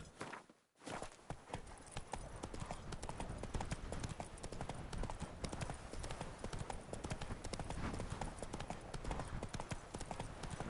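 Roach, the horse in The Witcher 3, gallops with rapid, rhythmic hoof clip-clops that run steadily and close after a brief pause at the start.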